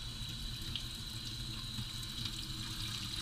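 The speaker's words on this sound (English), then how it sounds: "I just use tap water, as you can see." Tap water runs steadily into a jug while making hot-process soap, a soft continuous hiss and patter at low level, unbroken throughout with no voices.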